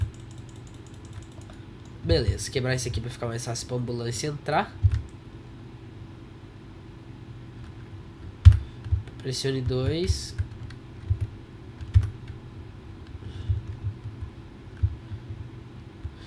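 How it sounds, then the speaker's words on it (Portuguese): A computer keyboard clatters in quick bursts of typing under someone talking in Portuguese over GTA San Andreas gameplay. Separate isolated key clicks fill the quieter stretches. "Você também pode escutar o meu teclado"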